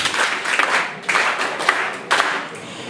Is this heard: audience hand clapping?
yes